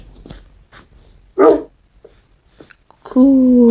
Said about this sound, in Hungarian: Csönd, kutyák,